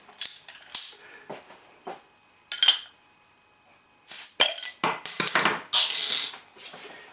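A bottle of St Austell HSD beer is opened and handled, with a series of sharp separate clinks and knocks of glass and metal that come in bursts between short quiet gaps.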